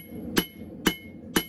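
A hammer strikes a hot steel bar on an anvil to flatten its end, three sharp, ringing blows spaced evenly about half a second apart, close and clear with no talking.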